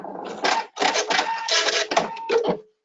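EPIC 2 sewing machine stitching decorative stitches in several quick whirring bursts separated by brief pauses, close and fairly loud, with nothing else heard.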